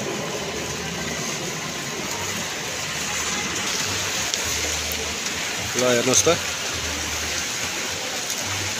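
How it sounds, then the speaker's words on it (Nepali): Floodwater rushes past flooded shops in Kapan with a loud, steady roar like heavy rain, while someone talks briefly over it. "यत्रो खोला आउँदो रहेछ यहाँ त"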